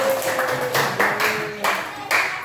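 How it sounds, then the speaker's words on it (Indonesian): Classroom applause for a student group: a few scattered claps and short bursts of clapping from a small group, fairly close, with faint voices underneath. "Kelompok 1 kasih tepuk tangan dong buat kelompok 1."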